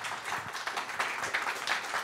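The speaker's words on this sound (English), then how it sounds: "welcome those guys with some applause" An audience at a VR conference talk applauds, giving a steady patter of clapping at moderate distance that fills the whole stretch without a break.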